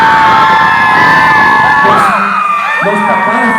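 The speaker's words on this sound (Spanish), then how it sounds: "Ya nomás gritan y aplauden ustedes tres." A crowd of people whooping and yelling with high shrill cheers, loud and close, continuous shouting that swells and overlaps.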